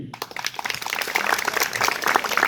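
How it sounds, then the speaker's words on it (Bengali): Crowd applause at a village match final, a steady wash of many hands clapping at moderate volume, continuing throughout with no speech. "সবাই দুই টিমের জন্য জোরে করতালি দেই"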